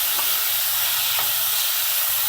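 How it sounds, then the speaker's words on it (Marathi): Grated bottle gourd fries in a hot pan for halwa, giving a steady, loud, hissing sizzle throughout with faint low rumbles underneath. "पटकन आपला जो दुधी किसला आहे ना, तो टाकून घ्यायचा. अजिबात वेळ घालवायचा नाही. त्याला चांगलं फ्राय करायचं."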